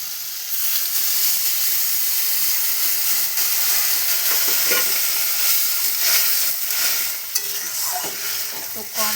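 Water poured into fried-down spice paste for a fish curry sets off a loud, close sizzle and steamy hiss with stirring scrapes, steady for several seconds before easing.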